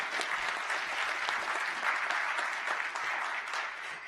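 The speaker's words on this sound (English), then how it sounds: "can we please give her a big round of applause, please?" A large crowd at a county government live-streamed meeting gives a sustained round of applause, steady and moderately distant, with many overlapping claps and no talking.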